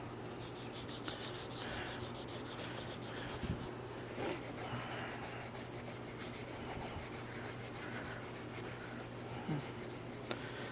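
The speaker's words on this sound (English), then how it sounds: "when you're using a strap piece like this, it really sands fast" A strap piece sands a wooden knife handle in a steady, continuous rasping rub, close and fairly quiet, with no talk.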